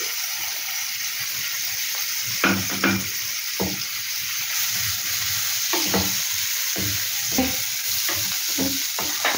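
Ginger paste stirred into a sizzling frying pan while making stuffed ash gourd: a continuous hiss of frying broken by repeated scraping, clattering strokes of the spoon at an uneven rhythm, fairly close, with no talking.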